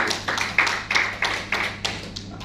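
A church congregation claps during a Sunday service, steady rhythmic handclaps about three per second, fairly close and clear over a low hum.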